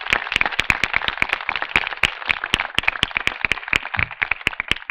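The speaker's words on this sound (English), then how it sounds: "So give Mike a huge round of applause." Sharp, rapid claps from a small crowd, a loud burst of applause with irregular individual hand claps and no talking.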